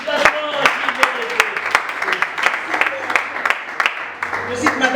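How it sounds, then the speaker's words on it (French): Scattered clapping from an audience at a New Year's greetings event, uneven and fairly close, with a voice talking over the claps. "On peut quand même l'applaudir."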